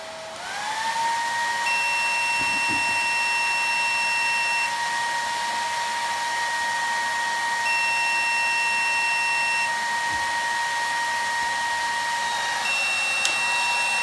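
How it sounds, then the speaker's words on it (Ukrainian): A hair dryer runs at maximum heat on reduced fan speed from a DATOUBOSS PSW4000 dual-voltage inverter under overload, a loud continuous whoosh with a whine that rises at startup and then holds steady throughout. "Стартую на максимальній потужності фена, але з меншими обертами."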